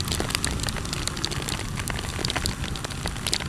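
Heavy rain pelts a rider on a motorbike, a loud, dense crackling patter of drops with constant rushing noise throughout.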